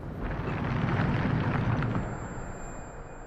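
A Bombarda spell blast from the Hogwarts Legacy video game: a loud, broad rumbling burst swelling over the first two seconds, then a fading rushing tail, with no talk.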